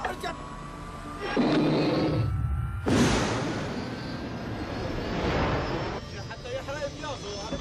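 Aircraft engines start and run up, heard as swelling whooshing roars in several bursts that rise and fade over a low continuous hum, with a few spoken words in between.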